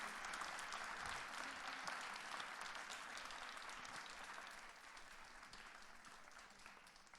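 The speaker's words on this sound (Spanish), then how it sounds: "quisiera pedirles un aplauso para el doctor David Harvey" Lecture audience applauding Dr. David Harvey, a continuous dense wash of clapping that holds steady and then gradually fades toward the end.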